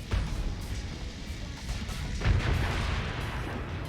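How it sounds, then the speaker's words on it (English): A huge explosion in a space combat video game, a broad rumbling blast with a second heavier boom partway through, loud and sustained with no speech over it. "Huge explosion!"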